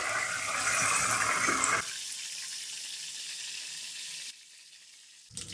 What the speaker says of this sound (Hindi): हल्का सा हम इसको आधा मिनट हम इसको फ्राई करेंगे।